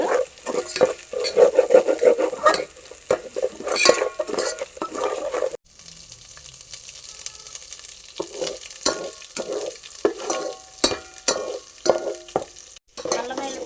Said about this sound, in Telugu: పేస్ట్ అలా వేగింది కదండి, కొంచెం గోల్డ్ కలర్ లాగా